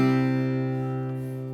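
A strummed guitar chord sustains evenly and slowly decays, bright and close, with no talking.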